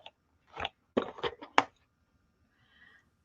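Crunchy chicken wing being chewed up close, several quick crisp bites and crunches in a short burst, followed by a faint trailing sound.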